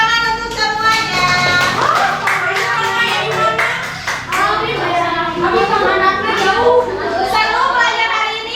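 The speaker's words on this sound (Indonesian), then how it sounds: "tepuk tangan untuk semuanya" A classroom of children applauding together, a dense burst of clapping mixed with kids' excited voices and chatter, loud and close.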